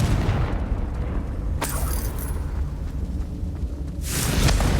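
A Confringo explosive spell blast in the video game Hogwarts Legacy: a deep booming burst that rolls into a sustained rumble, followed by a sharper crackling hit and a second swelling blast near the end.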